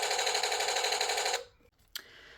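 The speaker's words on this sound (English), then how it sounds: "just firing the cannons." A Torro remote-control halftrack model firing its cannons, a loud rapid electronic rattling burst for about a second and a half, then stopping abruptly, followed by a faint click.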